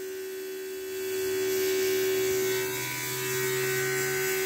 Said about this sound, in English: Pump is whirring away.